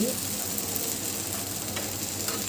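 Thalipeeth, a Khandeshi spiced flatbread, sizzles steadily in a hot pan just after being flipped, a continuous close frying hiss with faint crackles throughout and no talk.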